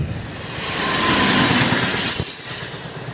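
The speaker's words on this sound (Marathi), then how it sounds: "ही लोकल होती." A local commuter train rushes past near a highway on a long motorbike ride toward the Kasara ghat, a loud close roar of railcars swelling and fading with screeching wheels and rattling carriages, without speech.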